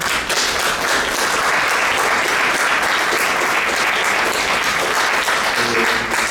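An audience at a storytelling event with grandparent storytellers at Casa de la Literatura breaks into dense, sustained applause, loud and close, with no talking over it.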